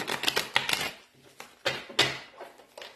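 Tarot cards being shuffled by hand, a deck with some cards larger than others, giving quick papery riffling bursts in two or three clusters with short pauses between, close and fairly quiet.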